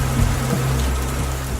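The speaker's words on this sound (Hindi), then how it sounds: "बारिश हो रही थी" Rain falls in a dense, steady hiss, loud and close, with a low rumbling undertone and no voices.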